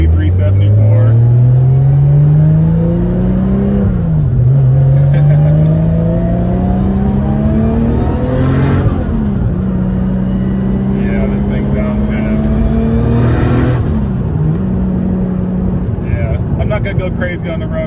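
Nissan R32 GTR with straight cut gears and a single Borg Warner turbo accelerating on a public street, loud rising gear whine and turbo spool climbing through several gear changes, engine rumble underneath, continuous and close.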